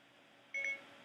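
A talking toy robot gives one short, clear electronic beep while its button is held down, alone against a quiet background.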